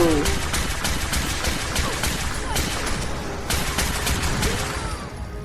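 Rapid explosive-rifle gunfire in a video game, a dense stream of sharp shots and bangs running continuously for several seconds, loud and close, with game effects around it.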